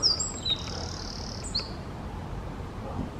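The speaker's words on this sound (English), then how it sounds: "This is the greatest spotted woodpecker, I think." A great spotted woodpecker in a park gives a few sharp, high chirping calls, with a louder pair at the start and another midway, over a soft, steady outdoor hiss.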